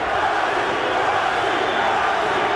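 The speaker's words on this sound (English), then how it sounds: "English crowd chanting Nazi, Nazi, Nazi." Boxing arena crowd at a Barrera vs Hamed fight, a dense, steady roar of chanting voices from a large audience, sustained and loud throughout.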